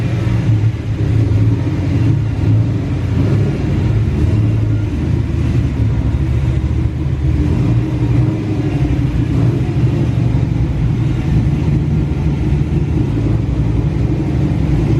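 A Ford Mustang rolls into a shop, its engine giving a steady loud low rumble with slight throttle swells and no pauses.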